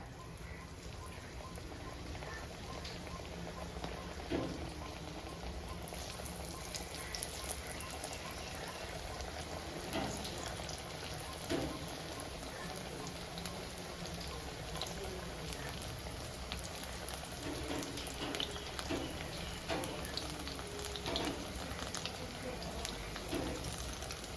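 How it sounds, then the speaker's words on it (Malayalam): Pakkavada dough, made with small onions Kerala style, frying in hot oil, giving a steady dense crackling sizzle that runs throughout with no speech. "നമ്മുടെ എണ്ണ ചൂടായി വന്നിട്ടുണ്ട് നമുക്കതിലേക്ക് ഇട്ട് കൊടുക്കാം"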